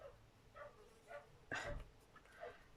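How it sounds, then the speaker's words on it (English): Dogs barking in a house where someone is crafting, with a few spaced yelps and barks at moderate distance and one louder bark partway through. "Oh, sorry about the dogs."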